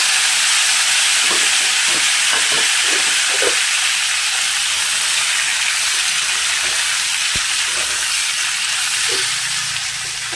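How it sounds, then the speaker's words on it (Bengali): Potatoes fry in hot oil in a kadai wok with a loud, continuous hiss and sizzle. A few faint stirring clicks are scattered through it, and no one speaks. "আলুগুলোকে একটু ভেজে নেব।"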